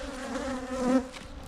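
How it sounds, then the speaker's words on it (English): Honey bees in a nearly full hive box give a steady, close buzzing drone that swells briefly near the end. "It's almost a full box of bees up here."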